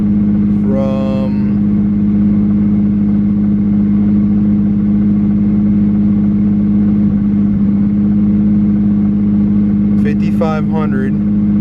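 A Nissan S15 Silvia engine runs on a hub dyno, holding a steady, loud droning tone with little change in pitch, while brief voices cut in near the start and the end.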